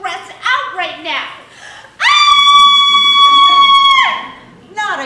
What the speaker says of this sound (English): You really must stop that screaming